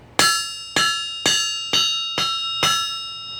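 Six evenly spaced hammer blows strike an anvil dated 1919, each one ringing out loud and bell-like before the next hit.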